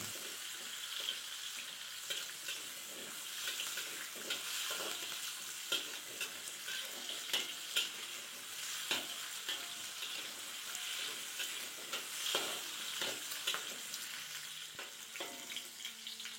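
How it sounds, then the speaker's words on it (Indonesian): Shallots, garlic, chili and candlenuts fry in hot oil for a home-cooked fried rice, giving a steady close sizzle broken by repeated stirring scrapes and clinks of a utensil in the pan. "ini kita masukkan bawang merah, bawang putih, cabai-cabean dan juga kemiri. Kita goreng-goreng hingga berbau harum dan berubah warna ya."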